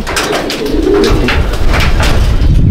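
Pigeons coo in a loft, their soft throaty rolling calls repeating in overlapping pulses, close and fairly loud over a continuous low rumble.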